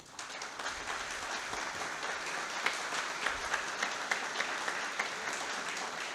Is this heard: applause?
yes